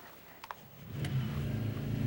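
Cartoon cars speed away, a short rising engine whoosh that swells after two brief clicks and holds loud to the end, with no talk.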